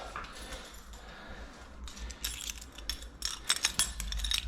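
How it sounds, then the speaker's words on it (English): Keys jangle and clink while unlocking a hotel room door with very high ceilings, a light metallic rattle that builds into brighter clustered clinks near the end, fairly close and with no talk over it. "I need to unlock the door."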